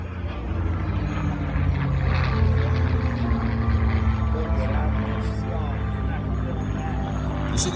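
A continuous deep engine drone with a strong low rumble and a steady hum from a vintage aircraft flying at a Fourth of July weekend air show, loud and unbroken throughout.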